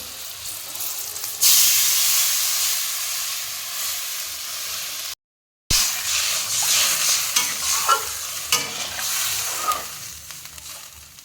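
Ground spices with salt, turmeric and chilli powder sizzling in a pan for fish curry, then a loud hissing burst of steam as water goes in, followed by bubbling and stirring scrapes. No one speaks.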